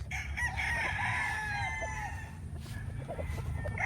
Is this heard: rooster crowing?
yes